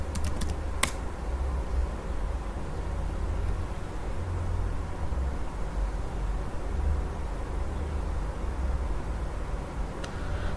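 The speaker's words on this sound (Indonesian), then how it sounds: "Kita ketikkan get disk." A few quick keystrokes on a computer keyboard type the get disk command, brief clicks at the start and one near the end over a constant low hum of room noise.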